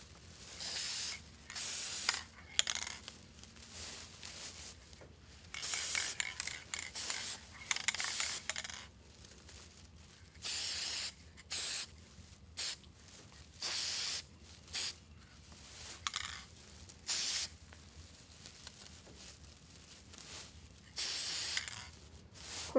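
Spray can hissing onto the fabric ruffles of a bee-themed wreath, in short bursts separated by pauses, loud and close with no talking.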